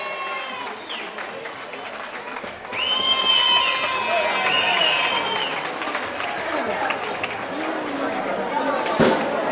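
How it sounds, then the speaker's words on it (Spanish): Crowd applause at a town festival prize-giving for a card game tournament, sustained clapping swelling after a few seconds, mixed with cheering and voices talking loudly over it. "Un fuerte aplauso."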